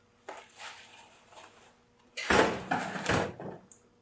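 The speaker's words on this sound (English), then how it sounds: "The LCD folds open like that, and then you put the screws back in and locks in place" A collapsible LCD frame on a Cincinnati Milacron machine being folded open by hand, with a soft shuffling rattle followed by a louder clunking slide and knock of metal parts settling into place.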